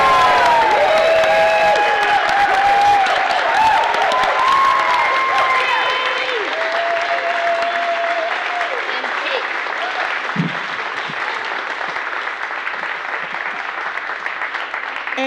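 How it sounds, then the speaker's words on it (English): A congregation applauds and cheers to welcome twelve new members, with sustained dense clapping, whoops and scattered voices. An organ or keyboard plays melodic lines over the applause at first, then fades as the clapping carries on. "Now I invite you to welcome them by applauding,"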